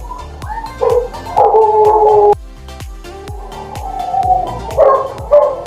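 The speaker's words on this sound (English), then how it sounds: "The dogs are barking." Several dogs bark and yip loudly nearby in repeated bursts, with some whimpering between the barks over a steady rhythmic ticking background.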